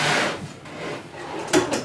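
A wooden drawer box slides into a kitchen cabinet during installation, giving a soft, close rolling slide that ends in a brief knock as it seats.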